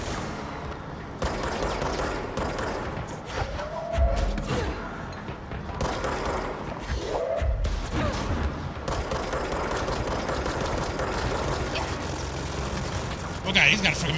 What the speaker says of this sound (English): he's got a freaking minigun.